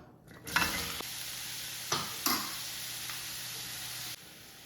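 Three chopped large onions fry in coconut oil in a kadai with a steady, close sizzle, broken by a few scraping stirs and clicks of a spoon before the sizzling stops abruptly.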